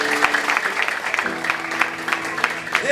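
Brief applause rises from a church congregation, a short patter of clapping with a voice speaking over it.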